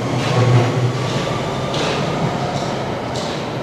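A London Underground Central Line train rumbles steadily in a tunnel, a loud continuous roar of wheels on rails with faint rhythmic clacks rising and falling throughout.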